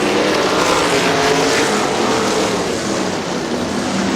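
410 sprint cars roar around a dirt oval at Butler Battlegrounds in Quincy, Michigan, a loud, continuous wall of engine noise from a close pack of cars with no speech over it.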